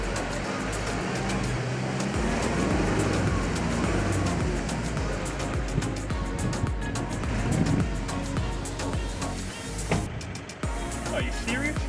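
4WD vehicle driving through a bog hole on the sandy Sandy Cape track in Tasmania, a loud continuous engine roar mixed with churning water and sand that stays heavy throughout.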